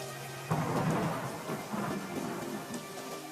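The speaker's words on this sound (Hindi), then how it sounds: "बारिश थी कि रुकने का नाम तक नहीं ले रही थी।" Heavy rain pours steadily with rumbling thunder rolling underneath, a loud crack-like onset early on, then continuous downpour, close and enveloping with no voices.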